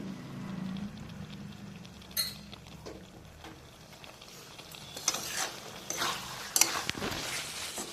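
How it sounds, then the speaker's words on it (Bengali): Bhola fish jhal curry with potatoes, salt and slit green chillies is sautéed in a pan, giving a low sizzle under scraping stirs that grow busier and louder toward the end, close and without talk. "দিয়ে আবার আমি ভালো করে কষিয়ে নেব"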